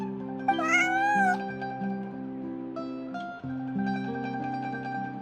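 A cat in a video game gives a drawn-out, rising and falling meow over a soft, steady musical backdrop, with a few quieter chirping sounds after. No one speaks.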